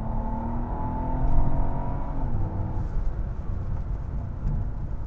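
A 2009 Mercedes-Benz CL65 AMG engine revs hard under acceleration, a continuous loud roar that swells and holds steady for several seconds, close by with no talking.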